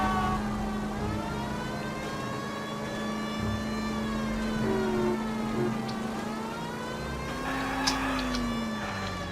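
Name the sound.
police car siren in video game L.A. Noire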